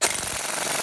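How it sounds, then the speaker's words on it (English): An impact wrench hammers loudly and continuously on a wheel bearing assembly during repair of a 2004-2008 Cadillac SRX, a rapid rattling burst close up that cuts off sharply near the end. "with an impact wrench"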